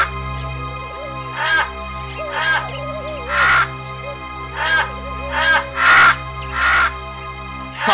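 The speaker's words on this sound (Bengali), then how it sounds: "সারসগুলো এত ডাকাডাকি করছে কেন বলতো?" Cartoon cranes calling loudly, a series of harsh, croaking bird cries repeated in uneven bursts over a steady low background hum.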